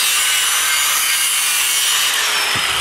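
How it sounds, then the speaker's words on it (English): A saw cuts through a metal stud on a Coleman KT196 go-kart frame being fitted with a Predator 301 engine, giving a loud, steady, continuous rasping close up with no voices. "It's a shame I had to cut that stud off of there."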